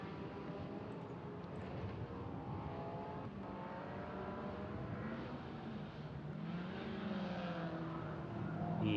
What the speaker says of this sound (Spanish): Y Claudio Vieira, que ahí lo ven pasar por 10ª vez por línea de meta.